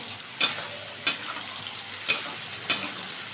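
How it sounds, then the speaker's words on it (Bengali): Boiled chickpeas fry in a pan with spiced oil tempering, a steady soft sizzle broken by four sharp spoon taps or stirs at regular intervals, with no talking. "ছোলাটা একটু ভেজে নিতে হবে"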